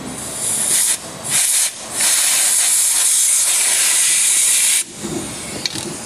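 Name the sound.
air gun blowing debris out of a hole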